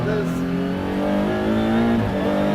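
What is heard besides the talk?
McLaren MC Extrema race car engine while driving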